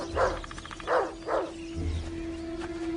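A dog gives three short barks with gaps between them, fairly close, over a steady background hum and low rumble.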